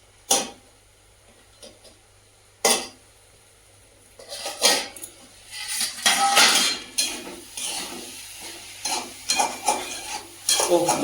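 Radish frying in a pan, heard as a steady sizzle broken by clattering utensil stirs and scrapes against the pot, with the activity growing busier and louder toward the end.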